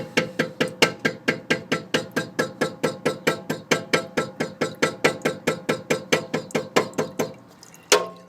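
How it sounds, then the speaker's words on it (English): Steady rapid tapping on a BMW E65 brake caliper during brake bleeding, about thirty sharp metallic knocks in an even rhythm, close and clear, stopping near the end before one final knock. "we're going to tap a little bit more."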